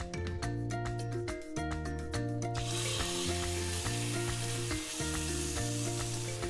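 Korean pan-fried skewers go into a hot pan with a few drops of cooking oil and start to sizzle. A steady frying hiss rises under prominent background music, with a few stirring sounds.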